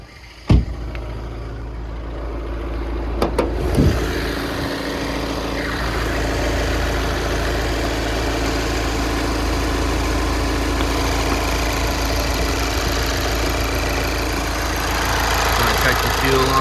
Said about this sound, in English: let the car idle